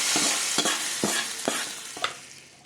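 Mustard seeds and urad dal crackle in hot oil while tempering for red keerai kootu, a steady close sizzle broken by sharp pops and stirring scrapes, with no voices.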